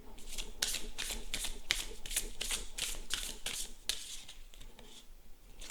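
Tarot cards being shuffled by hand in a tarot reading, a steady run of crisp riffling bursts, close and fairly soft, with no voices.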